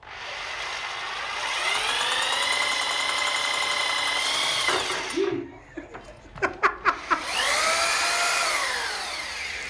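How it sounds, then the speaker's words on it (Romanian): A power drill whines into a bottle in long sustained bursts, then stops and restarts in several short revving pulses before a final steady run. "Nu găuri sticla, mă!"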